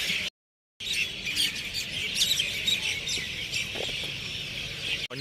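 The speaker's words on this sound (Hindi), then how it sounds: "हम लोगों के साथ साथ पंछी भी एकदम खुश है" Birds chirp and tweet busily outdoors in the morning near Aurangabad railway station, a steady chorus of bright calls after a brief silent break at the start.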